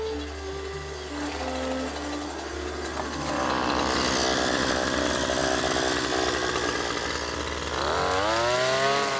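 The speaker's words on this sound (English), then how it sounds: "I finally started cutting the grass in my garden." A loud motorized grass cutter drones steadily for several seconds in a garden, its engine whining up and revving higher near the end, with no talking.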